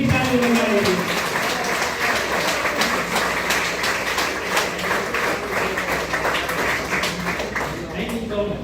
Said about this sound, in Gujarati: તો એ વ્યક્તિ માટે એકવાર દિલથી તાળી વગાડો